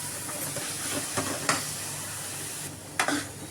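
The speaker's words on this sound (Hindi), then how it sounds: "अब इन सारे मसालों को हम भून लेंगे अच्छे से।" Spices with garam masala roast in a pan for suji idli, giving a steady sizzling hiss broken by a few brief scraping stirs, close up and without talk.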